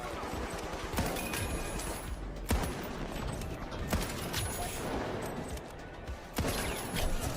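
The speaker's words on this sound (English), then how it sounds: "I could listen to that sniper pop all day long." Sniper rifle shots in The Finals, several sharp reports spaced a second or more apart over dense, noisy battle ambience with other gunfire.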